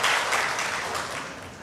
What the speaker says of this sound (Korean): 서로에게 박수 한번 하겠습니다